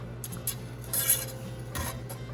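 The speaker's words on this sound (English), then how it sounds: "I'm just going to stir it with a knife" A knife stirring shrimp with wine, garlic, onion and hot pepper in a pan over medium heat, giving a few quiet metallic scrapes and clinks against a faint hum, with no speech.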